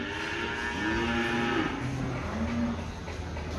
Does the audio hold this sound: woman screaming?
no